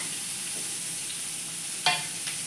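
Tomato and green chilies being stirred into potatoes and peas in a hot pan, giving a steady sizzle of oil with a single brief scrape of the spatula near the end; no voices.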